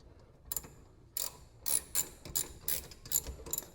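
A ratchet tightens rear brake parts on a 2004–2008 Acura TL, sounding as short bursts of sharp clicking in uneven strokes, close but quiet, with no speech.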